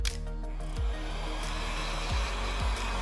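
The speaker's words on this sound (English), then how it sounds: "I have a heat gun like this, and I'm just gonna blow it on here." A handheld heat gun blows a steady stream of hot air onto the back cover of an LG Stylo 4 phone, with a continuous loud whooshing drone and a few faint clicks over it.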